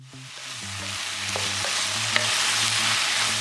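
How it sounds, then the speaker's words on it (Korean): Loud, steady sizzling of mushrooms stir-frying in a hot pan, with the scrape and clatter of stirring growing more intense; no talking. "표고버섯이 익을 때까지 볶아주고"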